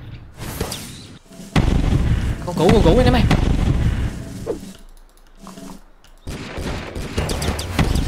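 Gunfire and explosions from the Deer Simulator video game as a deer wrecks a city, a loud burst of rapid shots and booms with a quieter gap near the middle, mixed with excited talk.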